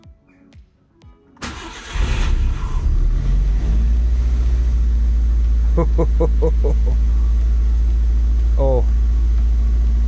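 A Nissan Super Turbo engine cranks and fires, then settles into a loud, rough, uneven idle with a steady low drone and occasional stumbles; a person speaks briefly before it starts and voices cut in over the running engine.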